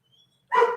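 A single dog bark bursts out loud and close after near silence, ringing on briefly at the end of a friendly interview sign-off.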